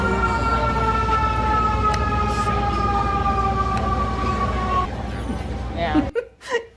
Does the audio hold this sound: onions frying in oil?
no